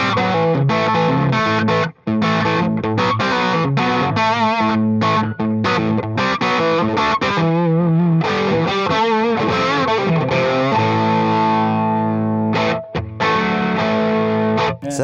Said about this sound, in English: This is your classic face fuzz germanium.